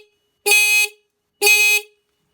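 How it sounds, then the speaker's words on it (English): A stock horn on a Honda CB750 motorcycle gives two short, loud, buzzy honks of about half a second each, separated by silence. The horn is close and clear with no talking. "I've got a stock horn."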